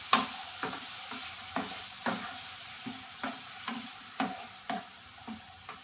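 Green beans and salt stirred in a frying pan with a utensil, about a dozen regular scraping strokes over a steady soft sizzle, close and moderately loud, with no talking.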